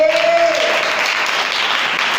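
An audience at a religious gathering applauds, a dense, loud clatter of many hands clapping together close by, with a brief voice at the very start.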